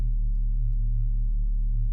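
A mono synthesizer plays a deep minimal bassline with glide, a loud sustained low tone that slides smoothly between pitches with no break, alone and unaccompanied.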